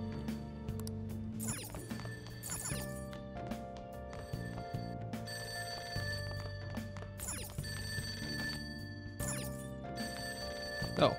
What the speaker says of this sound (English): There's a ringing sound.